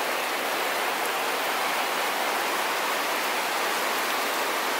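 Dense, even hiss of heavy rain during a thunderstorm over a pine forest near Brest, Belarus, fills the whole stretch, steady and unbroken with no other sounds.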